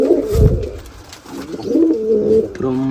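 Pigeons coo from close by inside a cage where a chick has hatched: low, throaty rolling calls, repeated and overlapping, with no talking.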